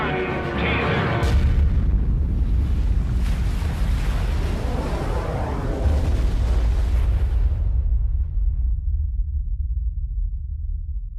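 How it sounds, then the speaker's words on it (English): A ten-megaton nuclear bomb test explosion: a huge, loud roaring blast that rumbles on for several seconds, its upper hiss dying away to leave a deep, lingering low rumble. "It explodes with a force of 10 million tons of TNT"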